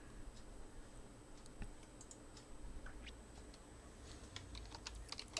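Computer keyboard being typed on while a MySQL query is entered, a quiet, uneven run of light key clicks and taps over a faint background hum, no speech.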